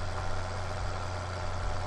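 A truck engine idles in Farming Simulator 2013 with a steady low rumble and a constant mid-range drone, holding an even level with no speech.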